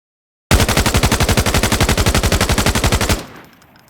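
A T03 rifle in Arena Breakout Infinite fires on full auto, one loud steady stream of about twenty-five evenly spaced shots that stops abruptly and fades into a short echo.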